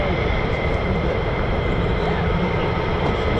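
Continuous broad roar of F-35 fighter jet engines spooling at RAF Lakenheath, steady and loud throughout with no clear rise or fall, filling the whole short stretch without a break.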